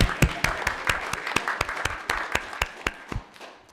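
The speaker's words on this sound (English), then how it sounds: "Round of applause." Sparse, scattered clapping from a small group at an elementary school district board meeting, individual claps distinct and thinning out toward the end.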